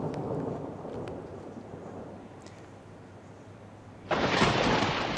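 Heavy rain pours down steadily with low rumbling thunder during monsoon flooding, a dense continuous roar that suddenly swells louder near the end.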